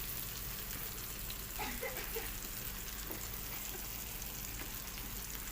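Okra, onion and garlic fry together in a pan, giving a steady, soft sizzle with faint crackles and occasional stirring, close and continuous with no talk.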